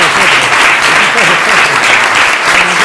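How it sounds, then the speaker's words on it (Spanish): Loud, dense applause from a seminar audience at a medicine-and-cinema event, continuous and close throughout with no talk over it. "le damos un aplauso muy grande"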